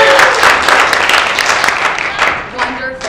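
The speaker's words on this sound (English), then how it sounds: "so why don't we give them a round of applause" An audience gives the two hosts of a student club musical dinner show a round of applause, with dense clapping and some cheering voices close by that slowly thin out.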